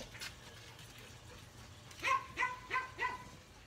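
A dog barks four times in quick succession at moderate volume indoors, each bark short with a whiny edge, after a faint earlier yelp, with no talk.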